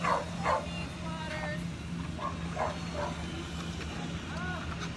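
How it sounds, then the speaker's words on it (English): Big rescue dogs arriving in Ft. Pierce bark and yip in short, scattered bursts at moderate distance, mixed with people talking and background bustle. "Getting out of the way for these big dogs."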